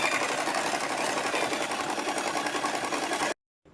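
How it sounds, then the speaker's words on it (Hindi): A sewing machine running in one continuous, steady stitching burst along the fitting marks on a cut top, close and alone, stopping abruptly near the end. "अब हम फिटिंग के निशान पर सिलाई लगा देंगे दोनों साइड।"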